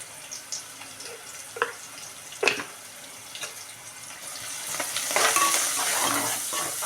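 Sliced onions with a pinch of turmeric are stirred in a hot pan, giving scattered scraping clicks of the spoon and a soft sizzle that swells louder toward the end.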